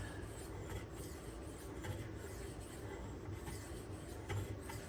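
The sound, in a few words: sharpening Benchmade knife on Naniwa whetstone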